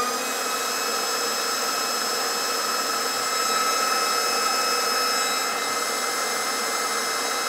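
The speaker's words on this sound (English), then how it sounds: "Right, put the fan on." Electric fan running beside a high-pressure air compressor setup: a steady, loud, even whooshing whir with a constant tonal hum, unbroken throughout and with no talk.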